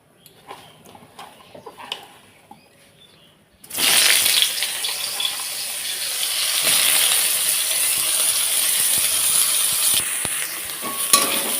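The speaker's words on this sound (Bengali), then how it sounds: "তো দেখো সোয়াবিনটাকেও আমি হালকা লাল লাল করে ভেজে নিচ্ছি" Salted soybean chunks drop into hot oil and burst into a loud, steady sizzle that holds to the end, with a few light clinks along the way.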